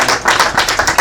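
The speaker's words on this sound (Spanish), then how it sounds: "Denle un aplauso a Jesucristo por esta palabra poderosa." A church congregation applauding, with a brief burst of dense, close, loud clapping that pulses unevenly over about one second.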